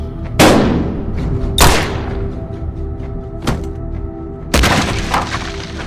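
Loud, close gunshots in a Batman audio comic drama, four sharp reports fired irregularly in a narrow alley, each with a booming echo over a low ambient rumble.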